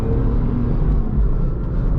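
A 2001 Lexus IS300 pushed hard through a corner, heard as a steady, loud, low engine and road rumble that holds evenly for the whole stretch with no voices over it.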